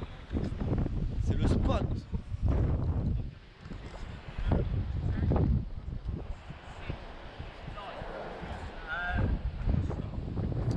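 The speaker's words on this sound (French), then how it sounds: "Oh les gars, il y a du vent ici, hein." Strong wind buffets the microphone on a Moroccan beach, gusting in loud rumbling surges throughout while people talk over it.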